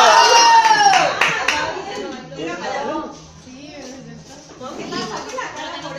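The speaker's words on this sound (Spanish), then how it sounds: "¡Aplausos por Santiago!" An audience applauds for Santiago at a lively gathering, with clapping strongest at the start and then thinning under overlapping talk and crowd chatter.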